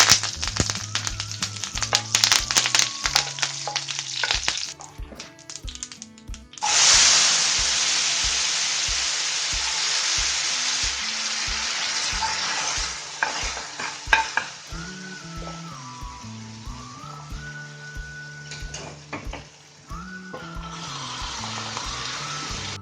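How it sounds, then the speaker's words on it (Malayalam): Curry leaves and chillies frying in hot oil with popped mustard seeds for a Kerala chickpea curry, a loud crackling sizzle that flares up and settles into a steady hiss, with background music throughout. "ഇനി നമുക്ക് ഇതിനകത്തേക്ക് കറിവേപ്പിലയും മുളകും കൂടെ ഇട്ട് കൊടുക്കാം"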